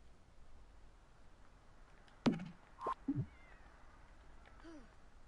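A Siamese cat meows in Murakami's Mansion, a few short, fairly clear calls in quick succession over a faint, quiet background.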